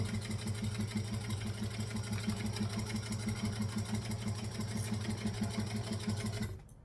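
Sewing machine stitching a quilt block: a steady, close, evenly pulsing mechanical whir runs alone for several seconds, then stops abruptly near the end.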